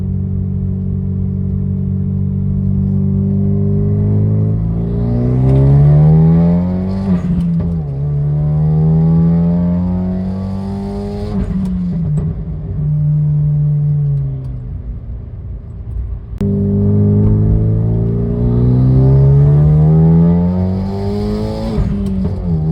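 Hyundai Genesis Coupe with a stage 1 modified turbo accelerating hard in repeated pulls, the engine note climbing steadily through each gear before dropping at the shifts, loud and close, with no talking.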